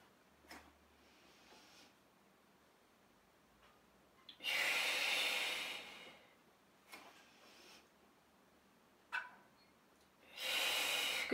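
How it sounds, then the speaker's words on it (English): Deep breaths during a Pilates back-extension exercise: a long, loud broadband exhale in the middle and another at the end, with softer, shorter breaths and small rustles between them, close and with no talking. "Breathe in, fill those lungs, fill the ribs. And exhale."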